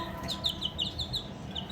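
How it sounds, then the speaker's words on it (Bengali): Two 40-day-old Egyptian Fayoumi chickens kept covered against winter cold, giving quick repeated high peeps and soft clucks close by, in a steady run of short calls. "এই যে আমি এনেছি দুইটা হচ্ছে ফাউমি মুরগি, এটা হচ্ছে মিশরি ফাউমি মুরগি।"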